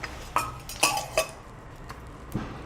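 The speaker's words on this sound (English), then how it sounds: "Now I am frying the sliced onions of 1 1/2, because half I kept for seasoning." Sliced onions frying in coconut oil in a pan over a slow flame, heard as a soft continuous sizzle broken by a few distinct metallic clinks of a spoon against the pan.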